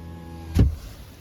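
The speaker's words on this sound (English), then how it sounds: "Test the window," A 2019 or later Toyota RAV4 driver's-side power window gives one brief, close burst of motor and glass movement that ends in a soft thump, with quiet surroundings before and after.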